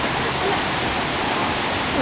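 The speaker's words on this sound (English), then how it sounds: "the roving sound of the waterfall" A roaring waterfall beside a wooden footbridge on Mount Emei near Leshan, China, heard as a loud, steady, broadband rush of falling water with no breaks.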